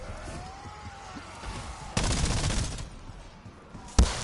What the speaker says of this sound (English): Tired of these guys shooting at me, man.